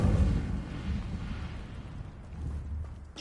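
A deep, roaring fire blast from the Incendio spell in Hogwarts Legacy, loud and rumbling in the low end and fading over a few seconds.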